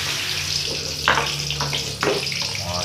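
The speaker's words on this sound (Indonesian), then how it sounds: "sekarang akan digoreng bumbu bahan-bahan buat sambal" Spices and other ingredients for Indonesian sambal frying in hot oil, a steady sizzle and crackle with two sharper bursts of spattering partway through, fairly close and with no talking.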